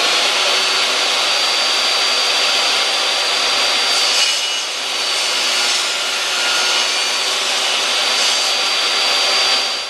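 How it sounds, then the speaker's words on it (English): Saw blade cutting through a small piece of wood, a steady loud high-pitched whine with grinding texture lasting throughout, swelling slightly as the blade bites, with no talking. "I'll be putting another piece of wood here for support as I go through the saw blade"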